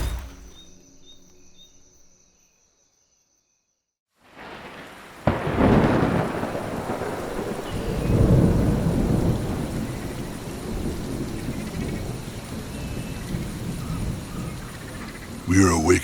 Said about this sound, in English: We are awakened early by a heavy rain shower.